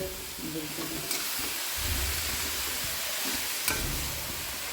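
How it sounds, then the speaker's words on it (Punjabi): Grated carrots for gajrela frying in ghee and being stirred in a pan, a close, continuous sizzle broken by scraping stirring strokes and a couple of sharp clinks. "ਇਹਨਾਂ ਗਾਜਰਾਂ ਨੂੰ ਅਸੀਂ ਜਿਹੜਾ ਆ ਘਿਓ ਦੇ ਵਿੱਚ ਭੁੰਨ ਲੈਣਾ"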